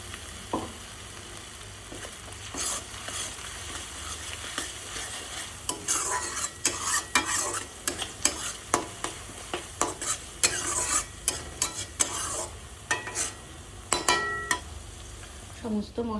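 Ground spice paste frying in a kadai and stirred steadily with a utensil: a constant sizzle under rapid, repeated scraping and tapping strokes that grow busier toward the middle, with no talking.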